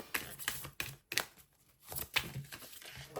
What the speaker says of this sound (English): Oops, that was bad shuffling.